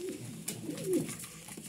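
Pigeons coo softly nearby in a market setting, a few low rolling burbles over faint background noise, with no talking during the calls.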